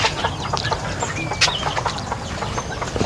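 Chickens cluck on a farm in Laos, with short, busy calls scattered over constant outdoor background noise at moderate distance.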